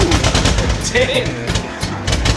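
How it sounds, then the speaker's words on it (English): Car engine misfiring close by, a rapid run of sharp popping bursts with brief uneven gaps, loud throughout. "Just misfire."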